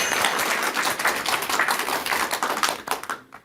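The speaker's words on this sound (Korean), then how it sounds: "여러분 박수 부탁드릴게요." Audience applause at a Buddhist monk's Dharma talk, a dense, loud patter of many hands clapping that builds steadily and then tapers off near the end.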